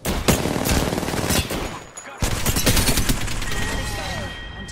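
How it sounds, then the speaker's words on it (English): Rapid automatic gunfire in a squad-based shooter video game, dense bursts of close, loud shots rattling almost continuously with a short gap midway, and some speech mixed in. "Getting shot at."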